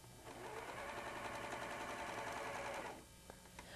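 A White Superlock 634D serger stitching fabric at a steady, fast whir, running continuously for about three seconds before stopping, with a few faint clicks afterward.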